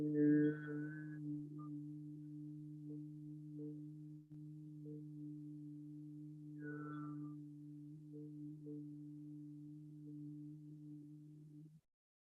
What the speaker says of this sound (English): deep breath in, then humming out your exhale